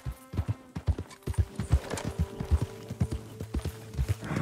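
A horse ridden in the Western video game Red Dead Redemption 2 trots with steady, close, loud hoof clip-clops on firm ground, one beat after another, with no talking.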